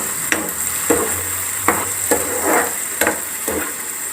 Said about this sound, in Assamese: বিলাহীখিনি দি মই আৰু অকণমান ভাজি ল'ম